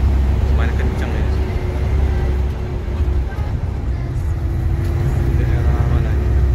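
A tourist bus drives fast, its engine and road noise forming a loud, continuous rumble that never lets up.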